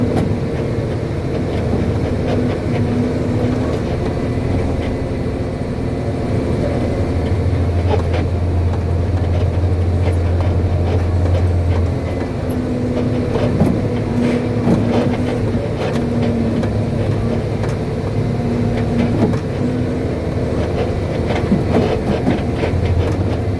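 A Cat end dump truck hauling fill dirt rolls along in third gear, its engine a steady loud low drone with constant rumble and rattling throughout, no talking.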